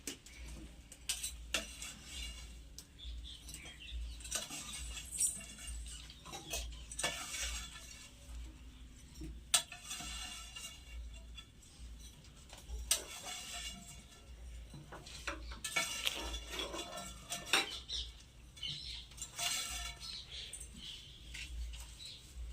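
Fried gulab jamuns dropped into sugar syrup in a pan, with scattered clinks and scrapes of a spoon against the pan, soft stirring and faint bubbling at a low level, no talking.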